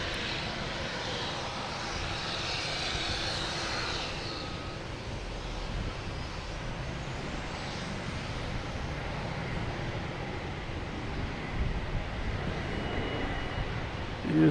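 An Air Canada airliner arrives from Toronto at Boston Logan, its engines producing a steady broad roar that holds for the full stretch with a slight swell near the end and no voices over it.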